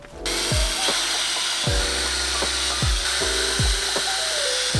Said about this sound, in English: take my drill bit and drill out holes where all of these little indentions are